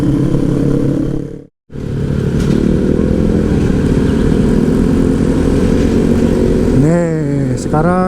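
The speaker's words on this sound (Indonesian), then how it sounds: "Sekarang udah bisa ngegas lagi nih." An automatic scooter motorcycle on the Pantura road in Indonesia drones loudly and close at steady speed, cuts out briefly, then revs rising and falling as it accelerates near the end.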